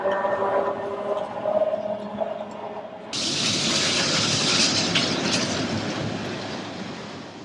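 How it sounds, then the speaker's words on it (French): Train descending a mountain railway toward Poschiavo and Tirano, rolling with steady wheel rumble and rail noise that swells into a louder, hissing roar partway through, continuous and close. "Pour notre train, c'est maintenant la descente en direction de Poscavio et de Tirano."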